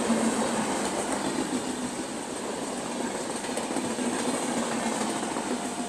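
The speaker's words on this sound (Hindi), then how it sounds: "ये जा रही है अपनी उत्कल एक्सप्रेस" The Utkal Express, running from Haridwar to Puri, rolls past in thick fog with a loud, steady rumble and the clatter of wagons. The sound stays close and continuous throughout, with no voices.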